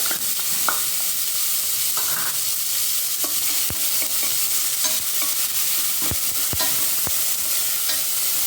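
Food frying in a pan while it is stirred, with a constant loud sizzle and scattered scraping knocks of the utensil against the pan. No one speaks.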